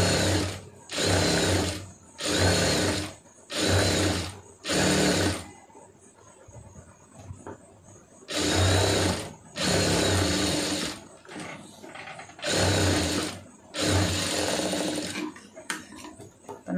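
A sewing machine stitches a sleeve joint in sharp, loud bursts, each running about a second with brief pauses between, while soft handling noises fill the gaps.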